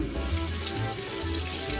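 Water pours from an automatic sink tap in a steady, close hiss for a couple of seconds, with no voices over it.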